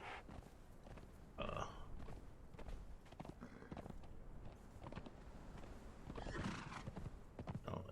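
Horse hooves clip-clopping alongside neighing and whinnying in the video game Conan Exiles, steady footfalls with a couple of louder whinny bursts, quiet overall with no talk.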